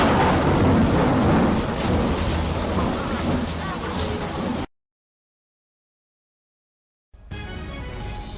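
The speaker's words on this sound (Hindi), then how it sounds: "भारी बारिश से जनजीवन प्रभावित होता हुआ नजर आया है।" Heavy monsoon rain pours in Rajasthan with rumbling thunder, a loud, dense wash of noise that suddenly cuts to silence for a few seconds and then resumes with steady rain.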